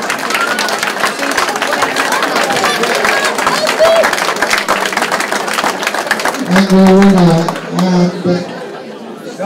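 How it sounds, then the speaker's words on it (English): Crowd noise fills the hall at a junior boxing development final, 70 kg class: a dense, steady wash of clapping and chatter throughout, with a loud voice rising over it near the end. "let's have a round of applause for back to"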